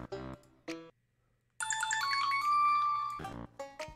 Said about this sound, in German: Moment, ich werde kurz angerufen.